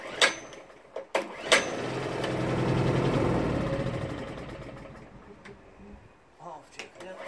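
A Performance Power 780 two-stroke generator on full choke being pull-started: a few sharp pull clicks, then a rough, swelling engine burst that sputters and fades, followed by more pulls, close by, with a voice at times.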